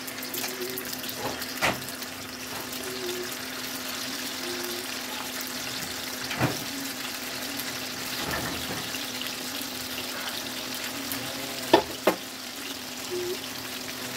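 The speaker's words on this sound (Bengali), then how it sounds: "তেলটা গরম হয়ে গেছে, আমি এবার একে একে মাছগুলো তেলের মধ্যে দিয়ে দেব।" Chang fish fry in hot oil in a frying pan, giving a steady, even sizzle that runs for the whole stretch, broken by a few sharp clicks and clatters.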